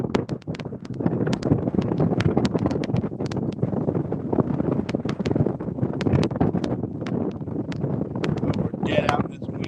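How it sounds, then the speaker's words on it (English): Brisk winter wind buffets the microphone on the Mississippi River bank during catfish fishing, a loud continuous gusting rumble with flapping bursts throughout. "Dead out in this wind."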